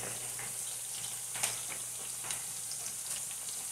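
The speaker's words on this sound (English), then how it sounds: "Let it fry a little bit" Ndole ingredients fry in oil in a pot, giving a soft, steady sizzle with scattered faint pops and crackles and no voices.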